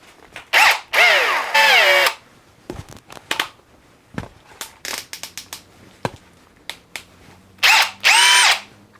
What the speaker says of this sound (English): we're gonna start out with some simple drilling